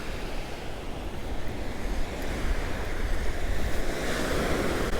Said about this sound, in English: The water's like super calm today, just some really small waves coming in.